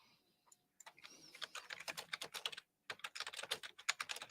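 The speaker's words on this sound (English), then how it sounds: "So Tom's keyboard is a loud clicker keyboard" A loud, clicky computer keyboard being typed on in rapid bursts of sharp keystrokes, close up, with a brief pause midway before typing resumes.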